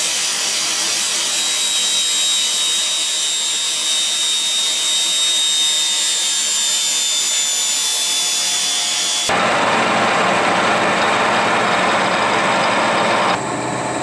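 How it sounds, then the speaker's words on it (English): Angle grinder fitted with a fine Scotch-Brite finishing pad buffing metal, a loud steady high-pitched whine and abrasive hiss that shifts to a rougher, fuller tone partway through. "That's the finish for the finest of the Scotch-Brites I've got for the angle grinder."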